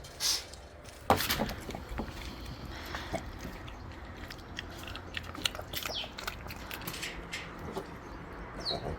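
A dog chewing and eating a meal of soup made with dried pollack and pork, with soft, irregular biting and crunching sounds close up. A sharper crunch stands out early, and the rest continues quietly with no talk.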